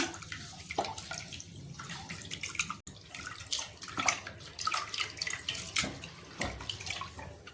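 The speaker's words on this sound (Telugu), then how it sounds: "ఫ్రై చేసుకున్న పప్పుని కడుక్కుందాం ఒక రెండు సార్లు కడుక్కుందాం" Fried moong dal being rinsed in water, twice over, for a moong dal rasam, with splashing, swishing and trickling water sounds close by, alone without talk, in irregular bursts.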